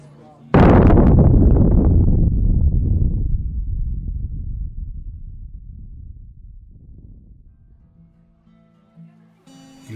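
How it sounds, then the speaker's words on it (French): A massive explosion from a weapon of mass destruction bursts in suddenly and loudly, then rumbles and slowly decays over several seconds into a fading roar. "Ils ont tout fait sauter"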